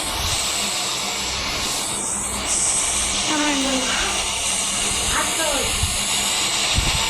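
A simulated train in Trainz Simulator Bangladesh crossing the Jamuna bridge, with a continuous broadband rumble and hiss, a few rising and falling tonal whines and a couple of sharp knocks near the end.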